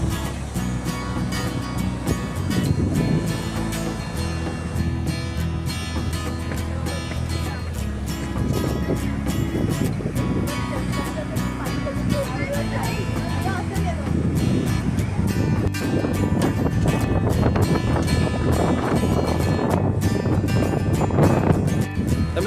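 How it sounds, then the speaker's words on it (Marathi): Big sea waves surging and crashing in rainy weather, a loud continuous roar of surf and wind with swells building and breaking, while someone talks over it throughout. "लाटा एवढ्या जोरात उसळल्या आहेत अक्षरशः वरवर पाणी येत आहे"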